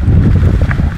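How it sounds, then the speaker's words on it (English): Strong wind high up in a coconut palm in Kiribati buffets the microphone in a loud, low rumbling roar, gusting continuously throughout the brief moment. "It sure is windy up here."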